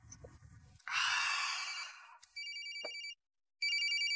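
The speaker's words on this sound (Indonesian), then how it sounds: "Nih ada yang nelpon." A telephone rings in an Indonesian drama scene, its repeated electronic ringtone chiming in clear bursts after a loud breathy sigh and some low background rumble, with no talking over it.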